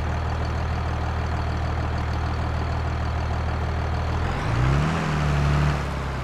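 Valmet John Deere tractor engine in Farming Simulator 22, a steady low diesel idle rumble that rises briefly as the engine revs up near the end, then settles back, heard alone.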